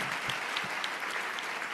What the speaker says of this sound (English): let's give another clap out to our performers for volunteering their time tonight